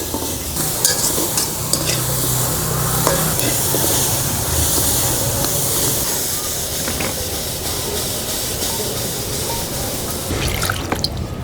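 Onion and garlic sizzle in a pan for a village carp curry, a steady bright frying hiss with occasional stirring scrapes running throughout.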